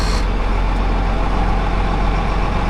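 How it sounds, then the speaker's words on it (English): A tractor engine, to be used for planting corn, runs steadily nearby on a cold morning, a low, even rumble that holds at the same level throughout with no voices. "I think this is going to be the new corn planting tractor."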